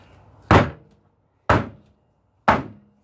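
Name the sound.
soap mold banged down on table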